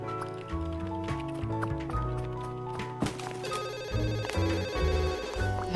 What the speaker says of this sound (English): That phone is constantly ringing.